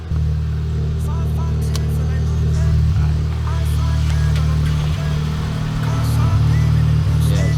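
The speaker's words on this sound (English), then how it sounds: "Obviously, manual car, exhaust is a bit modified, so a bit louder than normal car." A manual Honda Civic with 200,000 miles idles with a deep, throaty rumble from a modified, louder-than-stock exhaust, steady and close, with faint background noise.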